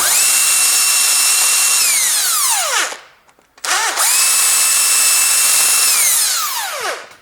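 A power tool runs in two long, loud bursts while removing the cylinder head bolts on a Ford Duratec engine. Each run winds up, holds a steady whir, then spins down, with a brief quiet gap between the two.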